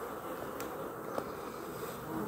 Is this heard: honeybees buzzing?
yes